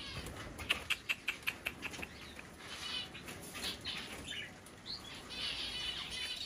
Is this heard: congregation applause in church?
no